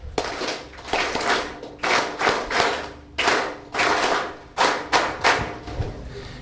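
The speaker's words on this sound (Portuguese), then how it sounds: "Uma forte salva de palmas." An audience at a Mozambican political gathering claps after a rousing speech, the sound coming in loud, repeated bursts of half a second to a second with short gaps between them, suggesting rhythmic group clapping rather than steady applause.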